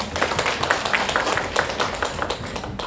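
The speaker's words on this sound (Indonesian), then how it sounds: "Tepuk tangan dulu dong" Teachers at a Kurikulum Merdeka training session clap together in a fairly loud, close burst of quick, slightly uneven claps that carries on steadily.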